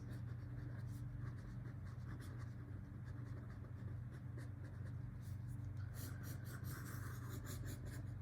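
Pen or marker writing a math exponent expression by hand, a continuous run of quick, close scratchy strokes and taps that grow busier toward the end, over a low background hum and with no talking.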